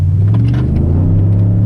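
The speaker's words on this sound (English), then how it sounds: "This is a really fast truck." A 2019 Ford F-150 Limited pickup accelerates hard, its engine producing a loud, deep, steady drone heard from inside the cab, with a faint rise in tone across the short burst.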